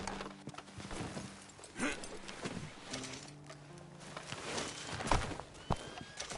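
A horse in the Red Dead Redemption II video game clip-clops along on its hooves with an uneven walking rhythm, along with soft snorts and a faint musical underscore.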